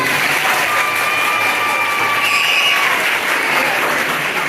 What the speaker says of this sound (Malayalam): ഇവിടെയുള്ള കുട്ടികൾക്ക് ആദ്യം ഒരു കയ്യടി കൊടുക്കുക എല്ലാവരും